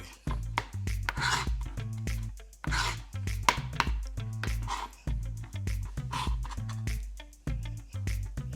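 A knife minces garlic on a cutting board with rapid, close, rhythmic chops that come in bursts with short pauses between them.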